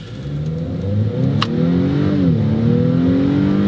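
A 2021 Acura TLX Platinum Elite pulls away from a stop, its engine note rising smoothly and loudly through the revs as the car accelerates, heard from inside the cabin.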